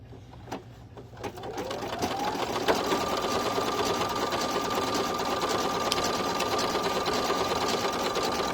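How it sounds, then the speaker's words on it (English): An embroidery sewing machine stitching an in-the-hoop bow starts with a few clicks, then speeds up to a loud, rapid, steady mechanical chatter at 600 stitches per minute that continues to the end. "I'm going to crank it up. I never stitch this fast. I got up to 600 now."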